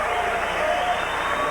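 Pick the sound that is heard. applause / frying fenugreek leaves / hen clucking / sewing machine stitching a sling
applause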